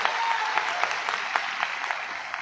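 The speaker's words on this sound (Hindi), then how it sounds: "एक बार जोरदार ताली आप सभी के लिए होना चाहिए।" An audience at a celebration event claps together, a dense, steady applause with sharper individual claps standing out now and then, loud and continuous throughout.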